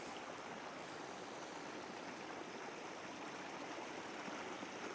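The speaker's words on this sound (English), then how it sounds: "Not a very big stream. And of course, when the tide's a lot lower, you get" A small tidal stream spilling over a mini waterfall at low tide, giving a steady, continuous rushing and trickling of water that stays even and fairly close throughout, with no voices.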